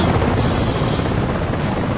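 A steady, loud helicopter rotor and engine wash from Battlefield Play4Free fills the scene with dense, continuous noise and a faint whine riding on top.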